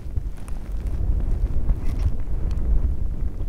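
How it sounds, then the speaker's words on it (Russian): Strong wind gusts out on open lake ice during winter ice fishing, a steady loud rumbling buffet against the microphone with no talk. "Но ветер сильный."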